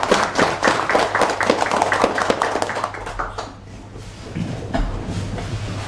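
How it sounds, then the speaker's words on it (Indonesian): A meeting audience applauds subsidized-housing developers with a dense burst of clapping that thins out partway through, leaving a low hum and scattered room noise. "tepuk tangan buat pengembang yang ada"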